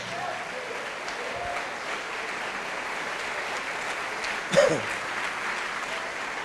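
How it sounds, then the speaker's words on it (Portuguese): A church congregation applauds in steady, sustained clapping at moderate volume, with one brief louder sound standing out near the end. "Vamos aplaudir ao Senhor, minha gente"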